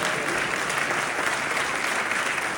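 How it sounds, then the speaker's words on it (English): Audience applause at a Tribeca Festival 2025 talk, steady dense clapping from a seated crowd filling the whole moment without pause. "Thank you for that indifferent round of applause."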